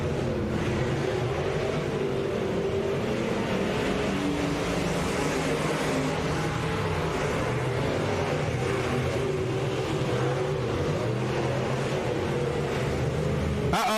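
Race cars lapping at Boothill Speedway, a steady distant engine drone and rumble that holds through the whole stretch with no break, no talking.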